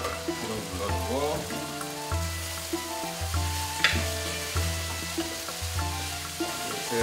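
Beef fried rice being stir-fried in a pan, sizzling steadily under rhythmic scraping and tossing strokes of the spatula, with background music playing and no talking.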